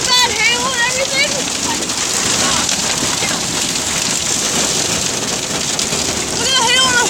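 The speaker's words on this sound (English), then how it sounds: "There's a lot of really bad hail and everything." Heavy hail from a supercell storm pounds a car in a dense, unbroken clatter, loud and close, with voices rising briefly at the start and near the end.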